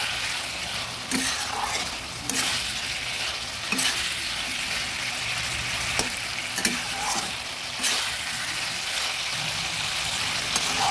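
Raw green banana and potato pieces sizzle and fry in a pan while a spoon stirs them at intervals, each stroke scraping distinctly over the continuous hiss of the oil.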